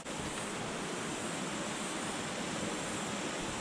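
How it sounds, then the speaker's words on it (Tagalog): Steady rushing water of a stream along the Ruakuri Bushwalk in Waitomo, New Zealand, a broad continuous wash heard up close without pause for the whole stretch. "Sarap pakinggan no, ano, lagaslas ng tubig."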